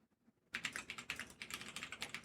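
Rapid, steady clatter of keys on a computer keyboard starts abruptly after a brief quiet moment and continues close and clear, alone without talk.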